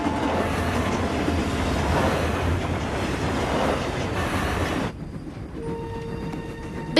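A train in a My Little Pony cartoon episode rumbles along loudly and steadily with clattering wheels, then abruptly drops to a quieter, thinner rolling sound with faint tonal ringing near the end, with no talking.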